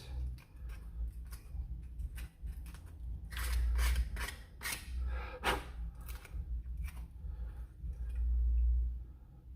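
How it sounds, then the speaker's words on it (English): A saw rasps back and forth through a hard shell in quick, uneven strokes, close up, with a few louder bursts and no talking. "I think that's it for the saw part for now."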